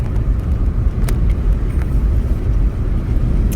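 A car drives along a road, a steady close rumble of engine and tyre roar with wind noise and a few brief knocks, no voices.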